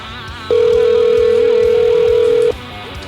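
A single steady electronic phone tone sounds loudly for about two seconds, then stops, against quiet background hiss.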